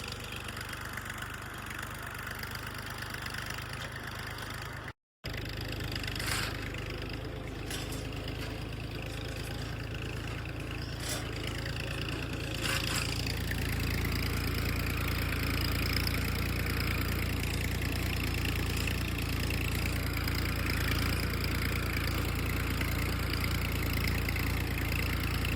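A farm tractor pulls a cultivator through a wheat field, its engine chugging steadily at mid distance and growing louder and heavier in the second half, with a brief dropout early on and no talk.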